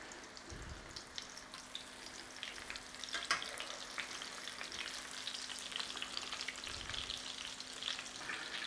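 Thin pork cutlets fry in a pan for tonkatsu, a steady close sizzle and crackle of hot oil that holds even throughout, with no talk.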